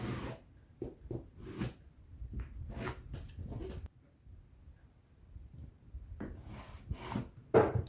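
A marker or chalk scratches over fabric while an armhole curve is drawn for a shirt dress, giving faint, close rubbing strokes of varying length with short pauses between them.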